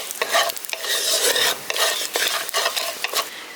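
Bay leaf, a dried red chilli and five-spice seeds frying in hot oil, loud and close, a dense crackling sizzle pulsing with quick stirring strokes across the short stretch, no talking.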